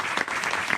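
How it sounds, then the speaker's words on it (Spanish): Audience applause for the writer Sergio Ramírez at a literary conversation event, a dense steady wash of clapping from many hands filling the whole short moment, with no talking over it. "Yo quisiera primero pedir un aplauso para el maestro por esta honestidad"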